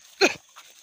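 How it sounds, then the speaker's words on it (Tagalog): A single short, hoarse bark from a dog near a silo trap, one sharp burst followed by faint quiet sounds. "Yan, mayroong tinatakulan yung aso natin."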